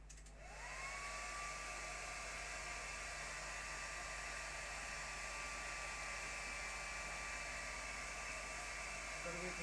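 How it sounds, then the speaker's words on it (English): A hair dryer drying a watercolour painting whirs up quickly and then blows at a steady, loud, constant pitch with a faint whine above the rushing air throughout. "Let me blast it with the hairdryer"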